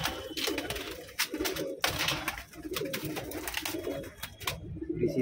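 Several pigeons coo and call steadily and close by, a flock of about fifteen birds, mostly black, kept in a loft for sale, with no talk over the cooing.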